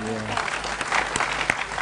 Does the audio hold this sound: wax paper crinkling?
no